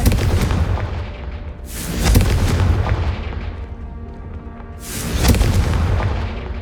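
Two heavy booming blasts from the Confringo fire spell in the video game Hogwarts Legacy, one near two seconds and another near five, rising out of a constant low game rumble with no talking.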